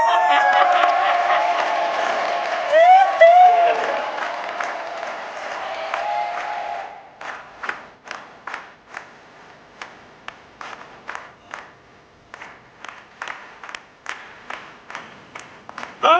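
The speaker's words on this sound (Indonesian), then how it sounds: "Tepuk tangan buat Pak Jero" A studio audience at a talent show breaks into loud, dense applause with cheers and whoops, which then thins into scattered individual claps and lighter clapping toward the end.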